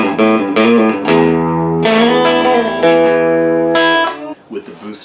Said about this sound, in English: switching it back to just straight fuzz, it gives you a pretty cool fuzzy distortion